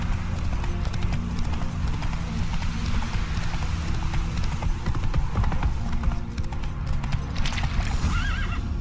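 Roach, a horse in The Witcher 3, gallops in a fast, dense run of hoofbeats with a whinny, steady and close over a continuous game soundscape.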